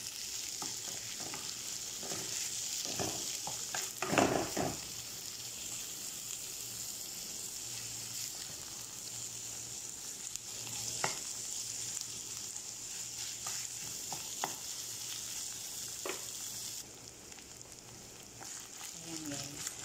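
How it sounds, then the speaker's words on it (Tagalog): Ground meat frying in a pan with browned onion and garlic, a continuous soft sizzle with occasional stirring scrapes and clatters, close and fairly quiet, easing slightly toward the end. "Hayaan lang muna natin siyang maluto yung giniling natin"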